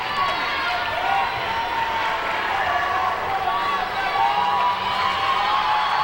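A very loud crowd roars and cheers continuously at a women's college volleyball match between NU Lady Miners and Napa Lady Indians, a dense steady wall of voices with shouts and whoops throughout.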